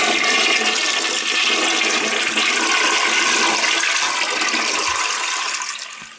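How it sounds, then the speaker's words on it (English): A household bathroom toilet flushes loudly and close by, with a steady rushing of water that keeps its strength for about five seconds before it starts to fade. No voices are heard. "and we're gonna flush it"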